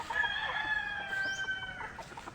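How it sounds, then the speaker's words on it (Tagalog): A rooster crows loudly on a farm over a background of clucking chickens, the call rising and stretching out before trailing off amid more hen chatter. "o yung mga manok natin dito"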